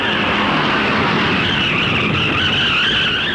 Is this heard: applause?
no